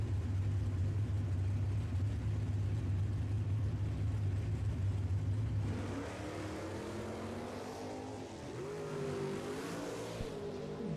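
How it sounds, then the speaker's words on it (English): Drag racing launch at a shootout event, a new Hemi Plymouth Belvedere and an Oldsmobile: steady loud engine drone that drops off, then higher revving engine sound rises and sweeps in pitch, heard from a distance. "Joe's car did not sound the way he wanted it to sound when he left the starting line"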